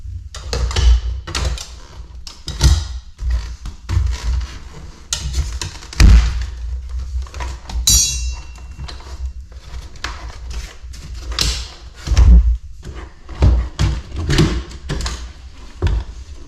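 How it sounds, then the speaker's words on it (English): Repeated sharp cracks and thuds as plastic clips pop loose while a car door panel is pried off a 2010-2014 Volkswagen Jetta Sportwagen, irregular snaps and knocks close up, with handling noise between them. "The last step is going to be to pry the door panel away."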